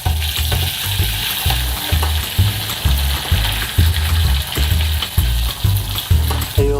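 Onions and pine nuts frying in a pan, a continuous close sizzle broken by regular rhythmic scraping strokes of stirring.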